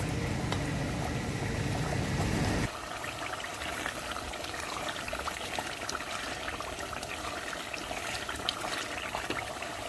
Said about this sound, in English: if you are hearing a noise, that's my extractor.